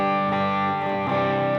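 Electric guitar through an overdriven amp tone on a Valeton GP-50 sounds as a loud, continuous, sustained distorted chord with dense harmonics, with no talking.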